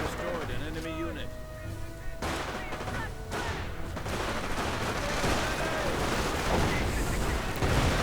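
Grenade explosions and rapid gunfire in a World War II real-time strategy game, likely Company of Heroes with Panther tanks, in a dense, continuous battle wash with booms and crackling shots, while an excited commentator talks throughout.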